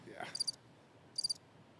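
Two short bursts of high cricket chirping, spaced about a second apart, play as a faint sound effect over a quiet background, with a brief voice sound at the start.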